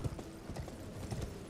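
Hooves of a night sentinel's horse in the Elden Ring video game clip-clop in a steady, moderately loud rhythm, with a few clear hoof strikes standing out over a continuous background.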